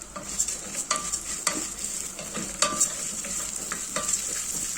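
Thin vermicelli noodles fry in oil in a pot as the first step of Egyptian koshari, giving a steady close sizzle with repeated sharp scrapes and clinks of a spoon stirring against the metal.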